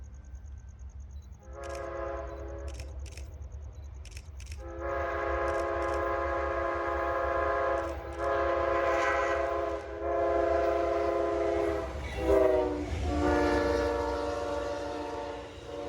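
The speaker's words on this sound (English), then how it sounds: "our good friend Nick launches up his drone for the last train of the day, the Silver Meteor, Amtrak train PO 98" An Amtrak passenger train horn sounds in several short blasts, then long sustained chords, over a steady low rumble of the train rolling past.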